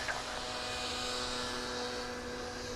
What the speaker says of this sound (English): We're going to catch this 777 coming in.